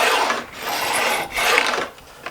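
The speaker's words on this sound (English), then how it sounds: "and then the edge of the file and what this is doing is this is putting about a 30-degree" A hand file rasps along the edges of guitar frets, beveling them to about 30 degrees on an Elysium Firehawk neck, in three close, loud, scratchy strokes with brief pauses between them.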